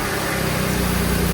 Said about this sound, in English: it took a couple of seconds to actually get the car turned over